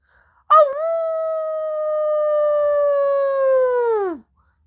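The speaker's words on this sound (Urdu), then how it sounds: "بھیڑیا کتوں کی طرح چیخ نما آواز نکالتا ہے۔" One long, clean wolf howl, loud and close, holding a steady pitch for several seconds before sliding down and stopping, with silence around it.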